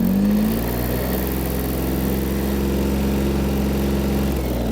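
Engine of a Mitsubishi MT-155 Japanese mini tractor pulling in first low gear at minimum speed, a steady close, loud droning idle-like hum with a slight pitch rise at the start, no talk.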